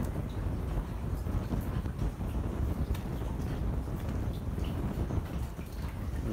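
Heavy rain pours steadily outdoors at a building site where a concrete floor slab was being poured, a dense, continuous broadband wash with no breaks, fairly close and with no voices.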